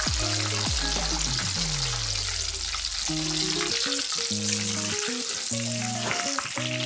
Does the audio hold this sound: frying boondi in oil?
yes